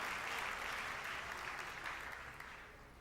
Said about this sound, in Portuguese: Vamos dar uma salva de palmas aos nossos convidados